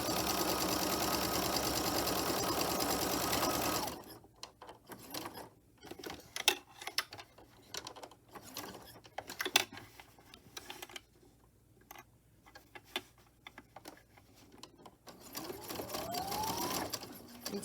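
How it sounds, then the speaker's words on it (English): A sewing machine runs in a loud steady burst while stitching the corners of a rosemary and balsam fir herb sachet, then falls to scattered clicks and short stitching bursts as it backstitches, and ends on another sustained run. "I like to back stitch in the corners as well"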